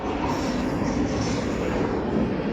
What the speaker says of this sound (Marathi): काय रेल्वे आले बघा याचा तुम्हाला